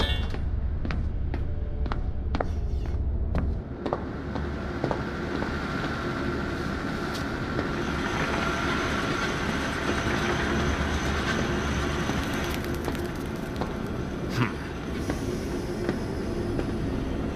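In the video game Zoochosis, a train rolls along continuously, a dense steady rumble and rattle with faint clicking at the start and a high metallic whine layered over it throughout.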